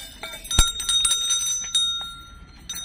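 Decorative hanging bells at an art and craft fair in Bengaluru ring out with bright, sustained metallic tones. A sharp strike near the start is followed by several lighter chimes that fade into a soft ambient hum.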